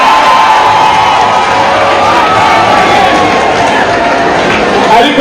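A comedy show audience in Belgium breaks into applause mixed with cheering and crowd noise, a dense and loud wash of sound that continues throughout.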